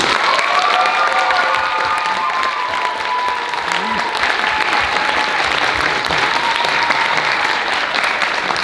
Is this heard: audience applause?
yes